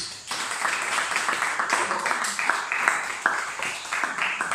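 A church congregation at a seminar applauds to acclaim Jesus, with dense, steady clapping from many hands close by, lasting throughout with some voices mixed in.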